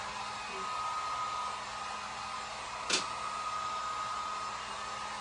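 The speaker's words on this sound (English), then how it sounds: "that's a hot heat gun" A hot heat gun blows a steady, loud rush of air to dry a stencil board, a continuous hiss with one brief sharper burst partway through.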